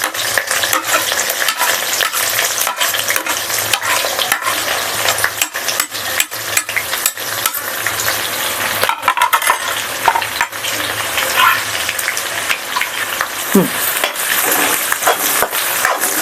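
Green chillies and onions frying in hot oil, a constant sizzle broken by repeated sharp clinks and scrapes of a spoon stirring against the pan, close and fairly loud, with no talking.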